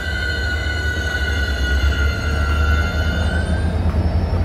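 A train in Tel Aviv, Israel rumbles past loud and close, a continuous roar of wheels on rails with a faint sustained squeal, steady for several seconds and free of talk.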